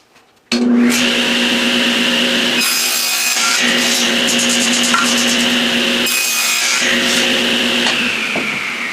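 Wood pieces for an Egyptian water box being cut on a power saw: a loud, close, steady whining rasp of the blade through the board, starting abruptly and running continuously with small shifts in tone as the cut progresses.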